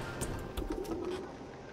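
Birds coo softly in the video game Submerged: Hidden Depths, faint against a steady ambient game background.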